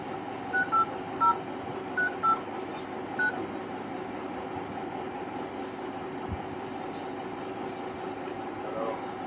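A telephone keypad gives six short electronic tones in quick succession, followed by a long steady low hum.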